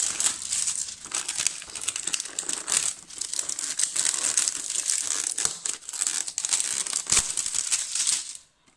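Plastic action figure packaging is torn open and crinkled by hand, a close, continuous crackle of rustling and tearing that lasts several seconds before it stops.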